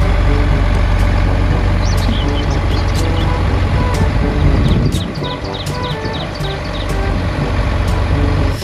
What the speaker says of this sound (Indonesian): ini mobil derek